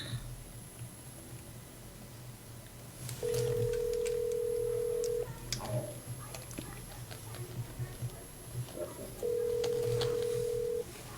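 A telephone call rings back, two long steady tones separated by a pause, heard faintly through a phone line against low background noise.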